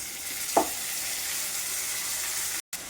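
Two onions and three tomatoes sauté in a pan with salt, giving a steady close hiss with one brief scrape of stirring partway through and a short dropout near the end.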